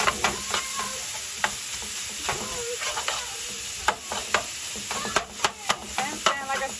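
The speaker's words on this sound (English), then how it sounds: "our bacon has been cooking for about 5 to 7 minutes now" Strips of bacon sizzle steadily in a pan while a cooking spoon breaks them apart, with sharp scraping clicks against the pan scattered over the continuous crackle, close and fairly loud, with no voices.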